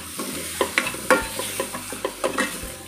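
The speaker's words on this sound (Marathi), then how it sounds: "यामध्ये आता आपल्याला घालायचे ही उभी चिरलेली वांगी। ही सुद्धा आपल्याला परतवून घ्यायची आहे।" Sliced brinjal for spiced vangi bhaat is sautéed in a pan, a close run of rhythmic scraping stirs over a light sizzle, with no speech.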